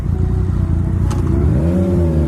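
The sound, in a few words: motorcycle riding on the road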